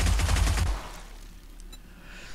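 A brief, loud burst of rapid gunfire in the video game 7 Days to Die, cutting off abruptly after under a second and leaving a quiet low hum.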